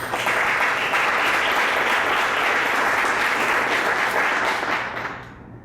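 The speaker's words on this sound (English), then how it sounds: "warm welcome and applause for our panelists" A conference audience at a game-based learning panel gives the panelists a full, steady wash of applause, loud and dense for several seconds before fading out near the end.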